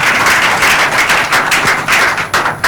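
Studio audience on a Nigerian radio call-in programme clapping, a dense burst of loud close hand claps lasting a few seconds with no talk over it.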